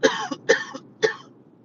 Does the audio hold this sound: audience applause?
no